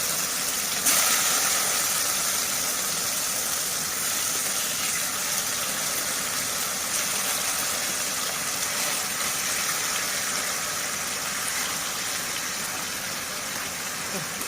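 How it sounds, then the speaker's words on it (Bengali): Chicken pieces fry in hot oil in a wok over a gas flame, giving a steady, dense sizzle and hiss that holds fairly loud and even throughout, with no talking. "কারণ তেলটা খুব সুন্দর গরম হয়ে গেছে। এবারে চিকেনগুলোকে দিয়ে দেওয়ার পালা।"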